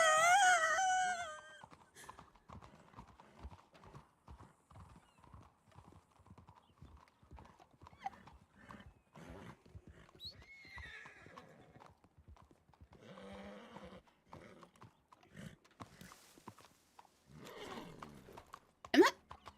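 Horse hooves clip-clopping in a roleplay video game, a regular run of clear hoofbeats lasting most of the stretch, opening with a whinny and mixed with brief voices.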